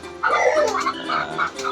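Dog barking and yipping near a backyard shelter for goats and chickens, a few short, close barks and whimpers in quick succession, with faint bird sounds mixed in.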